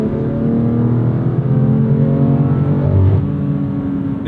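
A 2020 BMW M2 Competition engine under load, a close, steady throaty drone with layered harmonics and a small rise in revs near the end, continuous and loud with no talk over it.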